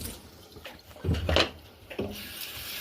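Summer squash being washed by hand under a running tap, soft rubbing and splashing with a couple of brief louder sloshes as the vegetables are turned in the water.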